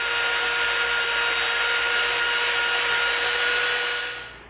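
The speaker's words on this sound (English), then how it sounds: "We're going to clean this up with the Dremel and some sanding sticks." A Dremel rotary tool cleans up a beveled edge on EVA foam, giving a loud, steady, high whine that runs unbroken and then fades out at the end.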